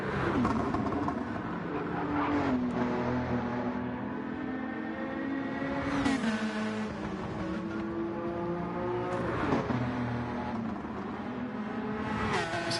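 Racing car engines in the GTRC sim race at Bathurst whine and rev through rising and falling gear changes as several cars pass close by, loud and continuous with sharp shift bursts.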